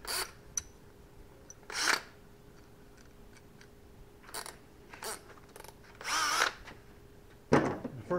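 A power drill with a small bit runs in several short bursts into a boat hull while fitting a bow eye, separated by quiet pauses, with faint clicks between them.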